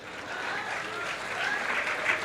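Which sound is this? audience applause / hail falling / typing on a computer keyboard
audience applause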